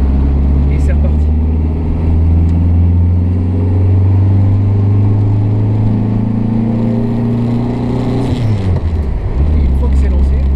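A 1950s Renault Frégate Domaine estate car cruising on the road, its engine a loud, steady low drone heard from inside the cabin, with a brief shift in pitch near the end.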